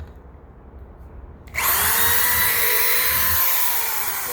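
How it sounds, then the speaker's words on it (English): An 8 amp electric drill with a side handle starts up abruptly after a quiet moment and runs at a steady, loud, high whine, held close and alone. "This is an 8 amp drill. So a lot more power."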